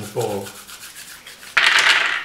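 Almonds and hazelnuts rubbed together by hand to strip their skins, a dry scraping rustle that starts softly and swells into a louder, steady rubbing near the end.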